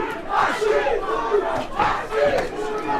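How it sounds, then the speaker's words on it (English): Boxing arena crowd chanting a fighter's name in a rhythmic, repeated two-beat call, loud and massed voices rising and falling in waves for several cycles. "Crowd chanting Wasim, Wasim."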